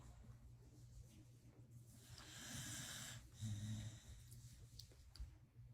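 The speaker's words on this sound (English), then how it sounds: "She not even snoring loud." Soft, slow snoring breaths from a woman rumble quietly in a still room, with a faint nasal rasp on the inhale and low background hum.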